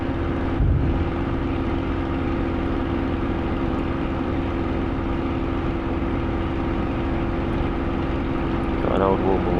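A Spitfire's propeller engine drones at full power during a flight-simulator takeoff. The roar is loud, close and steady for the whole stretch, with a brief thump near the start and a faint voice at the very end.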